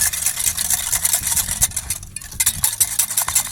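Sugar and eggs whisked together in a bowl for a melktert: rapid, steady rhythmic clicking and scraping of the whisk, close and fairly loud with a short pause midway.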